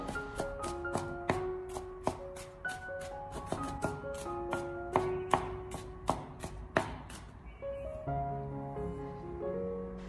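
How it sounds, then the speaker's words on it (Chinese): A kitchen cleaver minces five or six smashed garlic cloves on a cutting board in a brisk run of sharp, close chops, soft music playing in the background. "最后再将大蒜改刀切成蒜末"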